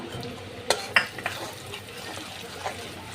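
Chopped onions fry in a pan with a soft, low sizzle, broken by a few sharp clicks and taps of a utensil against the pan, close by.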